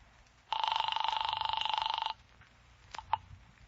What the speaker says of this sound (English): I grabbed the phone on Ryan's desk, and I called Hellman.